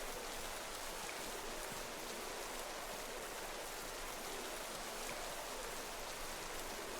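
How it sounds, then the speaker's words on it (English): Steady rainfall in a Pokémon video game plays as a faint, even hiss of falling drops that continues unbroken, with no voices over it. "it's already raining"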